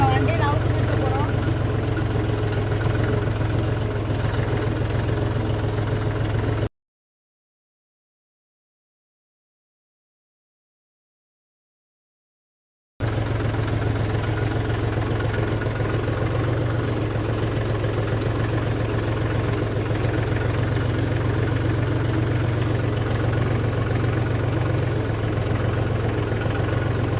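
A Mahindra 275 tractor engine idles with a steady, heavy, low throb, broken by a stretch of complete silence before the same even idle returns.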